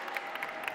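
Audience applause for the winners of a robotics competition, a steady wash of many hands clapping with scattered louder claps, continuous through the short stretch.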